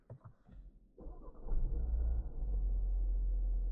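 A 2026 Kia Sportage petrol engine cranks and catches with a loud low rumble, then settles into a steady, slightly quieter idle.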